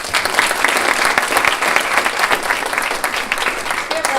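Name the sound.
audience applause at chamber of commerce event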